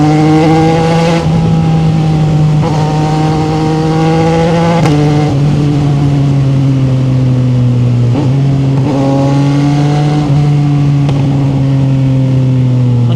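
A 2025 CFMOTO 675NK motorcycle engine pulls hard and loud from close by, its tone climbing through repeated gear changes with brief dips at each shift, wind roar underneath and no talking.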